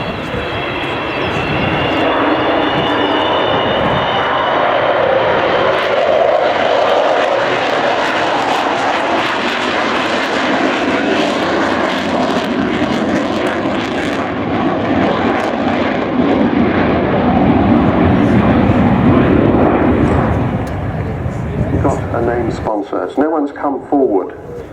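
An Avro Vulcan bomber makes a low, slow, wheels-down flypast, its engines roaring loud and sustained for most of the clip before easing at the end, with a voice talking over it.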